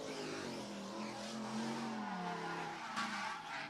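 A big car drifts around the pit at a Thursday night drift and stunt show, its engine roaring loudly as the tires squeal in long, rising and falling screeches, ending in a sharp burst.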